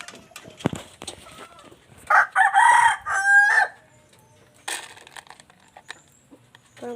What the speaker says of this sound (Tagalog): Magpapatuka pa tayo sa labas ng manok.